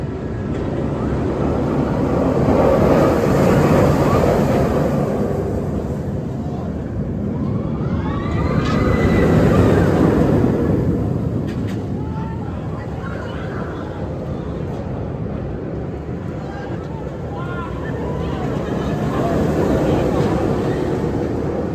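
Superman roller coaster at Six Flags Over Georgia roaring along its track, a loud sustained rumble that swells and fades in waves over about twenty seconds, with no clear talking.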